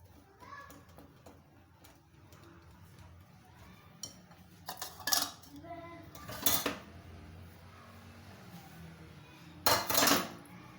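Egg paratha dough and batter being mixed in a bowl, heard as soft scraping and clinking of a utensil against the dish, with a few louder clanks and occasional faint background voices.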